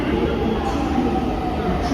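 A metro train at Pune station gives off a steady, loud rumble of rolling carriages with a constant mechanical drone and no clear wheel squeal.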